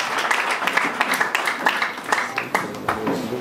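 A church congregation claps together in a rapid, uneven patter of hands that keeps going for several seconds at moderate volume, with a voice faintly present underneath.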